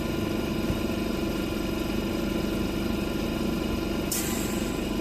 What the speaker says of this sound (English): you can slightly hear the valves here changing